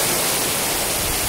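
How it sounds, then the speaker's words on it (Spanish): Steady broadband rush of a nearby waterfall in Xilitla, Mexico, a constant close roar of falling water with no other sounds over it. "Estamos aquí a unos cuantos metros de la cascada"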